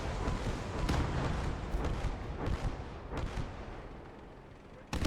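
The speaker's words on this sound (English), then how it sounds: "Moving the 105 over to try to get some better shots" 105 artillery gun firing in the Gates of Hell: Ostfront war game, with several heavy booming shots spaced a second or so apart, loud and close over a dense battle rumble, then a sharp blast at the end.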